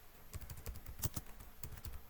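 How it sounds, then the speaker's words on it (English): Quick, uneven keystrokes on a computer keyboard, a short burst of close, crisp clicks with brief pauses between them in a quiet room. "I'm going to just highlight it, remove it, and type in Babalola"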